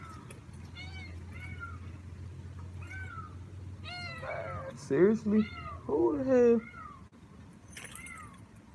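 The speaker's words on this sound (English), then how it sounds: "This cat that they know, like, super loud." A loud cat meows repeatedly in the foreground, several drawn-out, harsh calls close together near the end, with people talking over and between them.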